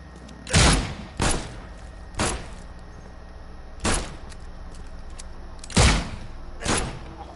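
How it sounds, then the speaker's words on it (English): Enemies firing guns in The Sinking City: six sharp, separate shots ring out at irregular intervals over a quiet background. "These guys are gonna come out and shoot me"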